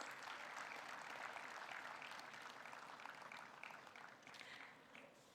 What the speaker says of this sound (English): Let's have a big round of applause for the faculty who have sponsored these medals.